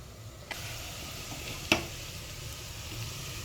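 Steady hiss of tomatoes frying in a pan with cinnamon and cloves, with a sharp clatter or pop partway through and a smaller tap near the start.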